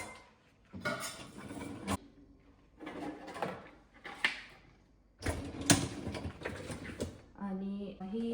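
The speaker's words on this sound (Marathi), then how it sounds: "सो हा आहे कुकर जो मी इथे लावणार" A pressure cooker and other steel utensils being loaded into a dishwasher rack, giving a series of hollow metallic clanks, knocks and rattles in bursts separated by short pauses, fairly close.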